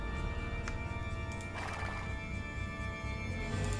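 Horses ride across a map in Age of Empires II, game audio layering hoofbeats, a whinny and steady ambient clatter throughout, fairly loud with no talking.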